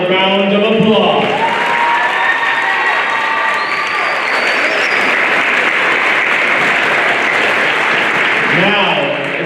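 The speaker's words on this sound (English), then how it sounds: "Please give all of these outstanding athletes another round of applause." Loud, sustained applause fills a school gym or hall for high school athletes at a fall sports celebration, steady clapping with crowd noise throughout and voices mixed in near the start.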